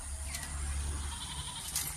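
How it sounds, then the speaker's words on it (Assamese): A goat bleating, a couple of faint, wavering calls over a low steady background hum, heard at a distance with no talking. "ছাগলীয়ে হাহাকাৰ লগাই দিয়ে"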